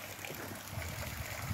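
A small waterfall in a garden pond runs steadily, giving a soft, constant trickle and splash at low level with no voices.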